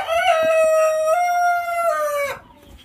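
A Golden Sebright rooster gives one loud, close crow lasting a couple of seconds, followed by quiet.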